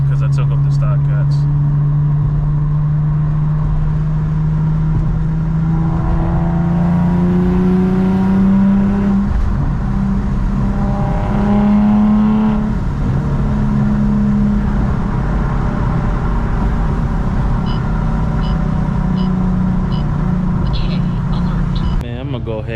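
Repeated revving from an Infiniti G37 fitted with test pipes and the catalytic converters removed: a raspy drone that climbs and holds in long pulls, close and loud, with someone talking over parts of it.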